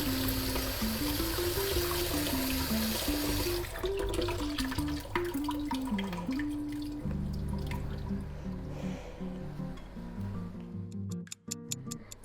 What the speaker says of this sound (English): I just run it through a cold water.